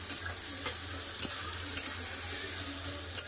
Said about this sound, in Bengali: পেঁয়াজকে ভালো করে লাল করে ভেজে তুলে নেবো